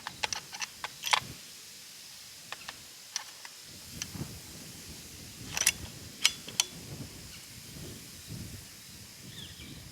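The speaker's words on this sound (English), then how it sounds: "Let me make sure that bolt's all the way back." Bolt action of a Colt CBX precision rifle being worked, giving scattered sharp metallic clicks and clacks, a few louder snaps later on, over a quiet hiss with no talking.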